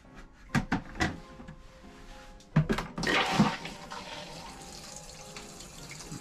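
A Jayco JayFlight 224 BH camper toilet flushes pink antifreeze during de-winterizing, with a few sharp clunks followed by a steady rush of water draining, moderately quiet and close.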